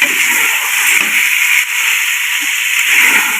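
Potatoes hit a hot pan of fried chicken in spiced masala, raising a loud, steady sizzling hiss that holds evenly throughout without a break.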